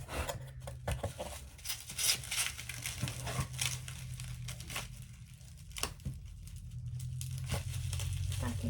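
Packing tape is peeled and crinkled off a bubble wrap package up close, with irregular tearing and rustling bursts over a low background hum.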